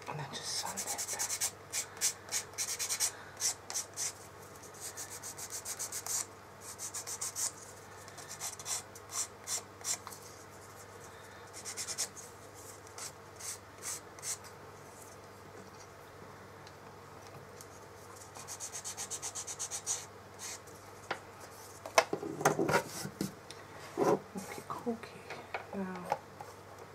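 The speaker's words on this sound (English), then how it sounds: "And then just sand it down." Sandpaper is rubbed by hand over a wooden craft box in quick, rhythmic scratchy strokes. The strokes come close and steady throughout, with occasional short pauses and a few light knocks.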